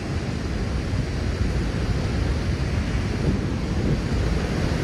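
Powerful rushing water of Niagara Falls, Canada, roars steadily and loudly throughout, a dense unbroken wash of noise with no voices.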